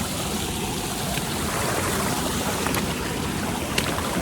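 Steady rushing water fills the clip, a constant broadband wash of a flowing creek with a few faint splashes near the end.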